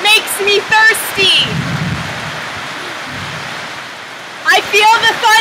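Heavy rain pours steadily in Panama with a low thunder rumble beneath, loud and close, while people talk over it at the start and the end.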